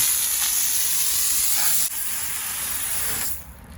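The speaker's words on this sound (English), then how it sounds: "And of course, spray it off again." Water sprayed hard onto a concrete surface to rinse green algae and moss loosened with laundry soap, a steady loud hissing spray that cuts off near the end.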